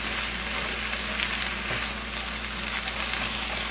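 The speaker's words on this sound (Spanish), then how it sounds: "lo voy a dejar sofreír" Vegetables for chicken fajitas frying in a pan, a steady, close, bright sizzle of crackling oil that continues evenly without pause or voices.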